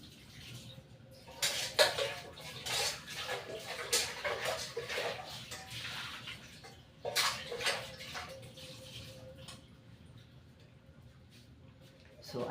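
Freshly picked corn is rinsed in water, with splashing and sloshing bursts at an irregular pace, several louder washes near the start and in the middle, and quieter trickling between them.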